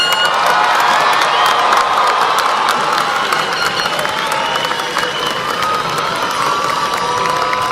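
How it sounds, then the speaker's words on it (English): A crowd at a high school graduation ceremony claps and cheers, with whoops and shouts mixed into a loud, continuous wash of applause that holds steady throughout. "can we get a round of applause for our student readers and our graduates?"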